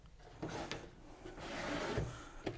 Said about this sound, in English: Take the drawer open, get the thing out, close the drawer in there again.